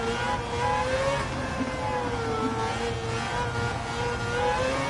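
A Mazda 3 engine drones steadily at a high, loud pitch, heard from close by with slight surges, and no one speaking.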